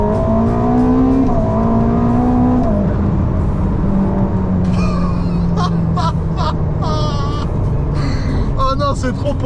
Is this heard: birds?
no